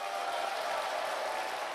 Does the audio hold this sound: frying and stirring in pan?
no